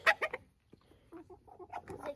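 Two roosters cluck up close, a few sharp bursts followed by a pause and then a run of softer, choppy clucks.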